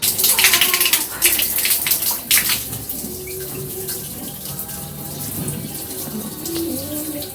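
Shower water running in a bathroom on hair wash day, a loud steady spray and splatter that eases into a softer continuous flow, heard close with no speech.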